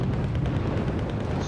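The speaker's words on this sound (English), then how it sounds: "My Chieftain Mark 10 got the first shot off." Cannon fire from a Chieftain Mark 10 tank in a video game battle, heard as a heavy, sustained low rumbling boom filling the whole short moment, loud and close with no speech.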